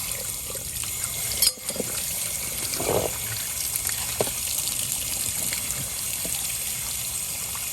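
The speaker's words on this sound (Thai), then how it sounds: "ต่อไปก็คือล้างน้ำให้สะอาดนะครับ" Running water rinsing mackerel clean in a sink, a steady trickling flow with a brief louder splash near the start and small splashes later, close by.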